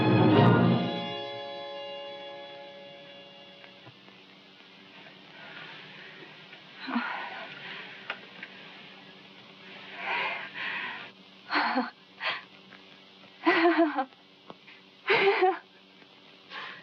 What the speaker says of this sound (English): The fever's broke. He's breathing better.